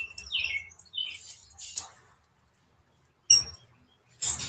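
Birds chirp and squawk in short bursts, some sharp and bright, with a quiet pause in the middle before more calls.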